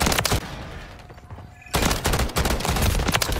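Rapid automatic gunfire in Modern Warfare 3 multiplayer, loud, close bursts that stop for a moment and then resume as sustained fire, with no talking over it.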